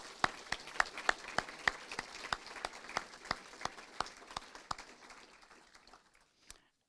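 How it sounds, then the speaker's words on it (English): Sparse, slow clapping from a small audience at a senior awards ceremony, individual claps distinct and evenly spaced, fading toward the end with a last lone clap. "Let's give all our outstanding seniors another round of applause."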